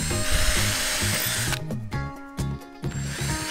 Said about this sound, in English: This is the drill.